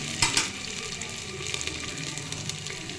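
Ginger garlic paste frying in a pan, giving a steady, close sizzle with a couple of brief clatters near the start.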